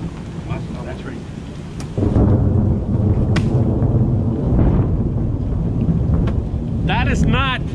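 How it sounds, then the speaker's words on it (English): Thunder rumbles through a heavy rainstorm, a deep rolling boom swelling in and lingering over steady rain noise, with sharp crackles and a brief high squeal near the end. "That is actually thunder."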